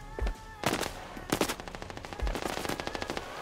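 Automatic gunfire bursts from the mobile shooter game Standoff 2, with several loud rapid volleys and thumps in a choppy rhythm, close and alone.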